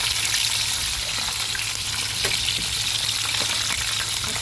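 Steady, dense sizzling of fish frying in hot oil, continuous crackle with no voices.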